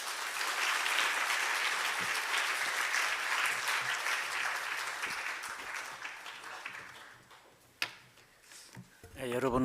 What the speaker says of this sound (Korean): 선교사님 더 힘내서 사역 잘 감당하시라고 박수로 모시도록 하겠습니다